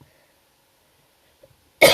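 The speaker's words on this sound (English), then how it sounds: "I apologise for the coughing." A short burst of coughing from a speaker recovering from the tail end of a COVID illness, loud and close, arriving suddenly after near silence.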